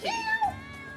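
A single cat meows in a video game, close and clear, with a rising then falling cry lasting about half a second and then fading.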